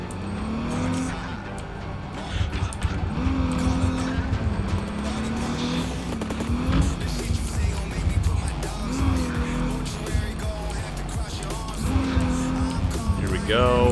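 A paint-scratched car driven in Cyberpunk 2077, engine revving up and down through gear shifts with tire squeals and skids, loud and continuous, with a voice talking over it at times.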